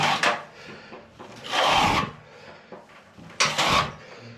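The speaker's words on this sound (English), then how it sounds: "When it comes to the corner there, just stick the nose of the trowel in and just drag away." The nose of a plastering trowel drags into a wall corner in three scraping, rasping strokes, each a short gritty rub with brief pauses between, close up and without talk.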